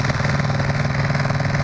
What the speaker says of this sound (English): 126 cubic inch V-twin, Deltron cases, Jim's flywheels, Manley rods, Patrick Racing cylinders